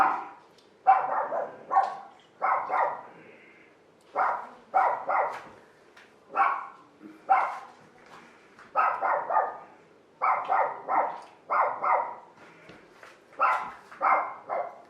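Indoor dogs keep up persistent, close barking, a steady stream of loud doubled and tripled barks with brief gaps that runs the whole length without any speech.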